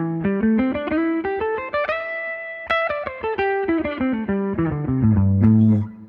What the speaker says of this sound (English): That's the pentatonic run across the neck of the guitar